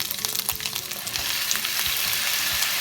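Tomatoes sauté with ginger-garlic paste in a pan for nachos chaat, a steady close sizzle of frying with scattered crackles and stirring scrapes, constant throughout with no talking.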